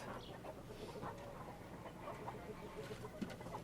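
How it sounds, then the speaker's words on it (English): Domestic ducks on a farm quack in short, scattered bursts against steady outdoor background noise. The calls are moderately distant and fairly faint, with one sharper call near the end. "Oh no, those aren't wild ducks. Those are our ducks."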